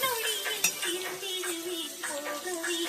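Food being mixed by hand with raw mango, coconut oil and other ingredients, soft squelching and light scraping close by, with a faint steady tone underneath.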